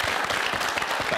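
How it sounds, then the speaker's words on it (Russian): A short burst of dense audience applause for a guest at a student talk show in Yakutia, continuous and even across its brief span. "Аплодисменты нашему герою."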